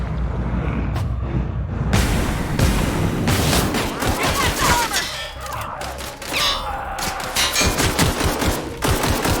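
Pistol gunfire in The Outer Worlds game comes as a loud, rapid volley of sharp shots and booms that repeats throughout, with a voice talking faintly underneath.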